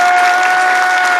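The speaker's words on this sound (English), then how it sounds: "Y'all give a round of applause," Dense applause from an audience, steady and fairly loud throughout, with no voices over it.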